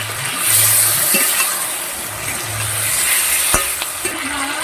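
Water and a little sugar going into a hot frying pan while cooking a Bengali bata fish curry with ground black cumin: a close, loud hissing sizzle with stirring and a sharp clink near the end.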